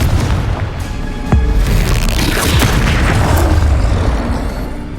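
Confringo explosive spell in the Hogwarts Legacy video game, a loud booming blast with a deep rumble and crackling burst, sustained and reverberant, with no speech over it.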